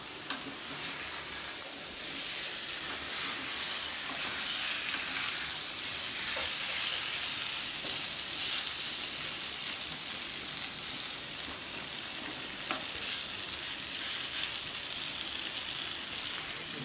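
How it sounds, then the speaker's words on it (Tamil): Marinated chicken fries in butter in a clay pot, a steady close sizzle and hiss with occasional stirring scrapes and pops, no talking. "ஒரு 10 minutes ஃப்ரை ஆகணும்."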